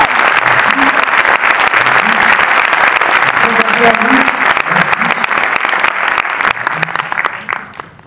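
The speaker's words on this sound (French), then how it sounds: "on peut l'applaudir." Audience applause at a film screening and debate in Paris, steady dense clapping filling the room for several seconds with some voices mixed in, tapering off near the end.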